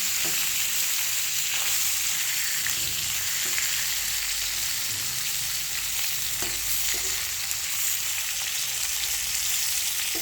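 Pangas fish frying in oil, a steady dense sizzle that holds loud and continuous throughout, with faint occasional clinks of stirring.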